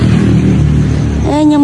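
A motorcycle engine idles with a steady low rumble, then revs up near the end, its pitch rising sharply.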